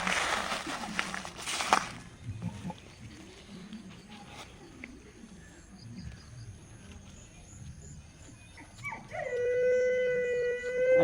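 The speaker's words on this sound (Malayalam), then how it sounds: "അടുത്ത വീട്ടിലെ പട്ടിയാണ് കേട്ടോ" A dog howls at a distance, a drawn-out wavering tone rising near the end, over outdoor background noise and a brief rustle at the start, near a cashew tree in Kerala.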